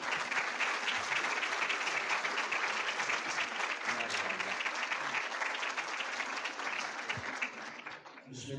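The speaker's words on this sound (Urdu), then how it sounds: "بھرپور تالیاں, بھرپور تالیاں." Sustained, dense audience applause welcoming a university vice chancellor at a lecture hall event in Sargodha, loud and even throughout, tapering slightly at the end.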